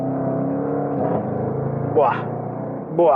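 Jaguar F-Pace SVR 1988 Edition V8 exhaust roaring as the SUV accelerates, a steady engine drone climbing through the revs with a couple of quick upshift blips near the end, while someone talks over it.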